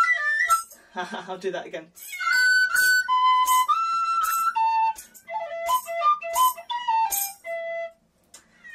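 Blues phrases on a tin whistle: clear, bright held notes and quick runs played up close, with a short spoken remark breaking in partway through.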